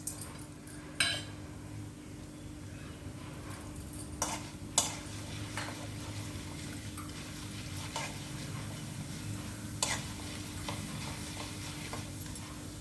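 Urad dal and chana dal frying in oil for a tempering, a faint steady sizzle with a low hum beneath and occasional sharp clicks of a spoon against the pan.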